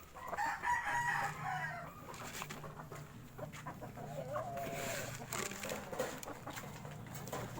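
Chickens cluck and a rooster crows in a yard of Shamo, Plucker and Peruvian fowl, the calls fairly faint and scattered over steady outdoor background with no talking.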